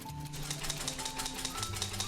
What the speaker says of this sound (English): It's a nice typewriter.